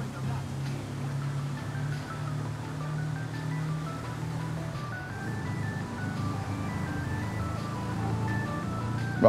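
A melodic song playing from a car radio while driving in GTA 5 Online, steady music with tonal notes over a low engine rumble, no talking.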